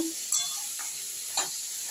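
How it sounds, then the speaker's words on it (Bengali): Chopped onion frying in a pan, a steady bright sizzle with a couple of soft scrapes as it is stirred, close and uninterrupted by talk. "এবার পেঁয়াজটাকে দিয়ে দিলাম এইভাবে নেড়ে নেব নেড়ে একটু ভেজে নেব"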